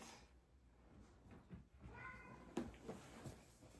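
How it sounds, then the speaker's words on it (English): A house cat yells with a few faint, brief meows somewhere in the background of a quiet room. "I'm not sure what my cat is yelling at, if you guys can hear that in the background."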